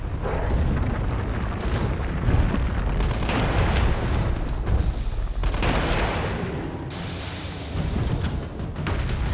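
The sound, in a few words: rocket launcher firing in video game Resident Evil 3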